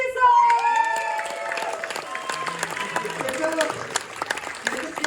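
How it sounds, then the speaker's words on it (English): An audience bursts into loud applause with whoops and cheers, a dense clatter of clapping peppered with high shouts that peaks at the start and keeps going steadily to the end. "Please, give it up with huge applause and whoops and cheers and everything that your space gecko selves can muster."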